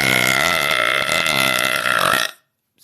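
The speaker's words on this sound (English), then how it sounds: "now she loves my burps" A woman lets out one long, loud, close burp that rumbles steadily for about two seconds and then stops abruptly into silence.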